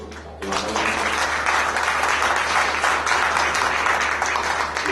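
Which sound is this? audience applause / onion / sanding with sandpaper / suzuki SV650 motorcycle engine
audience applause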